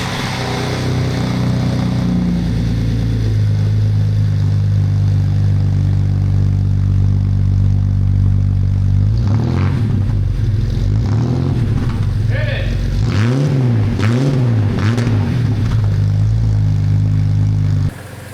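A Jeep Cherokee XJ with a freshly installed exhaust starts for the first time, cranking and catching into a loud, steady idle with rhythmic revving pulses near the end, very close and dominant.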